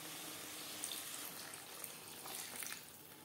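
Water pours steadily into a pan of peas, potato and paneer cooked without onion or garlic, a soft continuous liquid splash heard faintly and alone.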